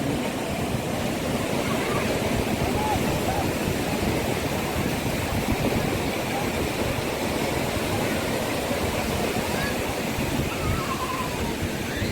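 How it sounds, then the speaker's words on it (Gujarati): Sea waves roaring onto the beach at Puri in Odisha, a steady, dense broadband rush of surf that fills the whole stretch without pause, loud and close, with no voices on top. "મોજા બહુ ગાજે"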